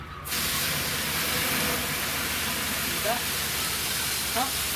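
Steady broadband hiss of a spray gun running continuously, close up, during bodywork prep on a 1970 Buick Wildcat, with faint voices underneath.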